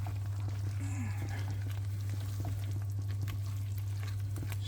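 A pan of ridged gourd with poppy seeds sizzles steadily while being stirred, giving a continuous close frying crackle with soft scraping over a constant low hum.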